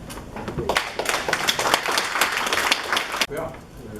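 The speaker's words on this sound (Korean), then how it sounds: "예, 다 같이 큰 박수로." Audience applause at a Korean school principals' seminar, a broad burst of many hands clapping that swells after a brief lead-in and stops abruptly near the end, with some talk audible underneath.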